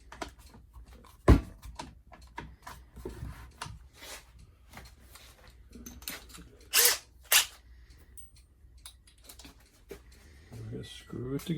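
A power drill drives screws into a wooden miter box for a DIY oxygen concentrator, a few short whirring bursts amid clattering handling noises, with a person talking throughout.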